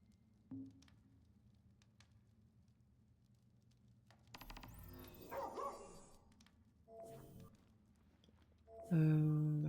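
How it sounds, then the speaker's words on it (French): A dog barks in Final Fantasy XV, faint and somewhat distant, amid low ambient hum, scattered effects and brief muffled sounds. "Aller en direction des aboiements."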